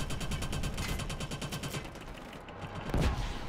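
Rapid automatic gunfire in the shooter Killzone Shadow Fall during a multiplayer match against turrets, a fast steady burst of shots that fades out, then a single heavier shot, with no talking.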